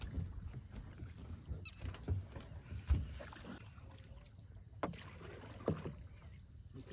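A wooden rowboat is paddled on a river at night during a fishing trip: steady water swishing and sloshing against the hull, with occasional louder paddle splashes and thumps, close and continuous, and no talking.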